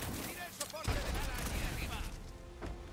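Gunshots fired at a hanging reactor in a Guardians of the Galaxy video game, a few sharp blasts in quick bursts amid dense game noise, with voices talking throughout.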